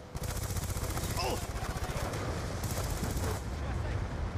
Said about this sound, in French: Un sniper qui m'a loupé